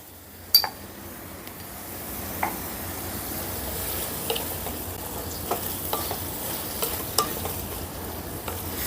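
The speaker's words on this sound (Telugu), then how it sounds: "స్టవ్ని మీడియం ఫ్లేమ్లోకి మార్చుకొని మధ్య మధ్యలో కలుపుకుంటూ ఒక ఐదు నిమిషాలు ఫ్రై చేసుకున్నాం" Brinjal fries in a pan with a steady, close sizzle, broken now and then by the clink and scrape of stirring.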